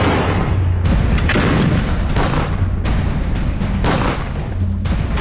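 Rapid gunfire from a rooftop firing position in Syria, dense loud bursts of shots and booms repeating in quick succession throughout, with no pause between volleys.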